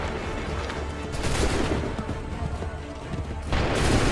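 Musket volleys in Assassin's Creed 3 battle, a dense stretch of overlapping gunfire and booming cracks, loud and close with rolling reports, rising again into a fresh burst near the end.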